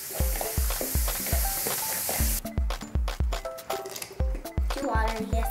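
Homemade slime being stirred in a bowl: wet, sticky squelches and clicks in a steady rhythm, close up, with a hissing wash of noise at first and soft voices now and then.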